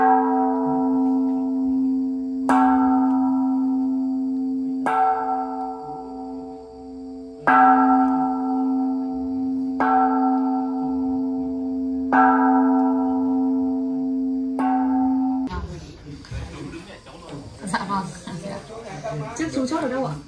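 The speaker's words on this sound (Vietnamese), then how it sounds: "lên gác chuông thỉnh một hồi chuông" A memorial temple bell at the Vị Xuyên battlefield site on Hill 468 in Hà Giang tolls seven times at even intervals of about two and a half seconds, each loud ring decaying slowly, followed by people talking.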